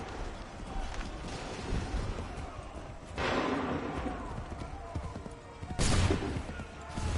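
Soldiers fire musket volleys in Assassin's Creed 3: two sharp, loud bursts of massed gunfire a few seconds apart over windy outdoor background, with shouted orders nearby.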